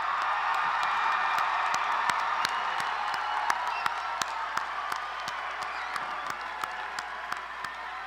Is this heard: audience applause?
yes